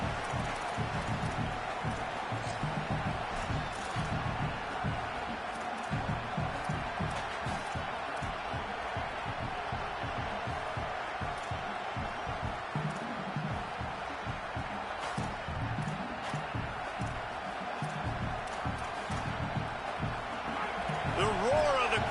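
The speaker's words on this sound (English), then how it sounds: "The roar of the crowd trying to fuel this defense to keep them pinned in their own end" A football stadium crowd roars continuously during a game, a dense, loud wash of noise that holds throughout, with a commentator's voice running over it at times.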